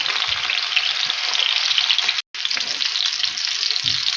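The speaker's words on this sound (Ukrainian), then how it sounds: "Огонь такий даю величенький, щоб картопля тут і смажувалася." Young potatoes frying in hot oil in a pan over a fairly high flame, a loud, steady sizzle with a brief cut near the middle and faint clatter underneath.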